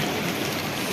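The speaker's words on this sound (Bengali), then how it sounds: "বৃষ্টি আমাদের পিছু ছাড়ছে না" Steady rain hisses densely at the Manikaran gurudwara in Himachal Pradesh, a continuous close wash of drops with no pauses.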